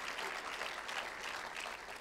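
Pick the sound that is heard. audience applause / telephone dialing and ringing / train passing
audience applause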